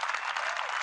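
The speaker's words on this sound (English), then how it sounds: "So how about a round of applause for Raleigh being a class when act?" A brief burst of dense audience applause, steady and fairly loud, with no voices over it.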